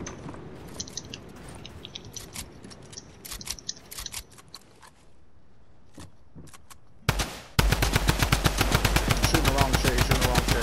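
A submachine gun fires in a video game: quieter clattering and crunching shots give way to a loud, sustained rapid burst of gunfire near the end.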